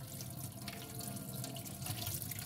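Tap water running steadily into a sink while a Blythe doll's hair is rinsed, a constant close hiss and splash with no pauses.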